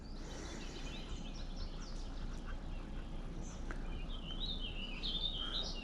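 Mallard ducks quack at the Allegheny river in early morning, with a few scattered calls over steady outdoor background noise and some higher bird chirps late in the clip.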